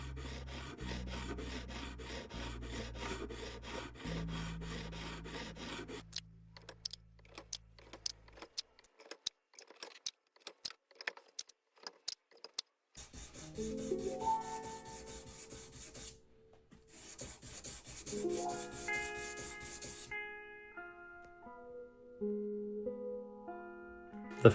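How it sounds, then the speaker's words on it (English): Guitar frets on a Fender are sanded and polished with fine-grit sandpaper, giving repeated close rasping strokes, then a stretch of sharp taps, then more scratchy rubbing passes. "So we're gonna polish these frets."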